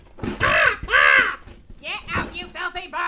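Harsh, drawn-out raven caws voiced by a performer in a dramatized reading of The Raven, two loud close calls followed by a rapid string of shorter rasping cries.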